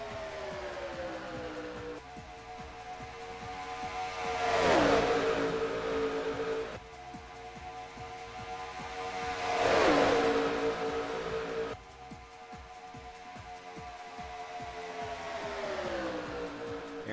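Racing trucks on a raceway roar past in repeated sweeps, each engine note rising to a loud peak as it nears and then dropping away, with a steady drone of engines between passes.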